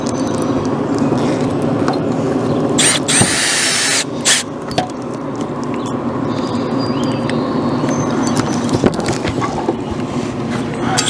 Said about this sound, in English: You can start shooting screws back in.